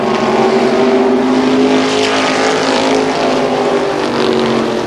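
IMCA E-Mod race car with a Jasper Engines motor roaring steadily at speed around the Columbus Motor Speedway oval, a loud sustained engine drone with buzzing harmonics filling the whole stretch.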